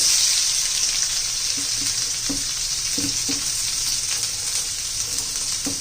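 Chopped onion sizzles loudly in hot oil over a high flame, a dense, steady hiss with occasional soft scrapes of stirring.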